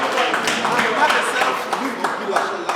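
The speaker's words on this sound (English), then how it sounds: "Clap for him. Clap for him." At an alumni get-together of a student association, a crowd claps steadily, with chatter and voices mixed in under the applause.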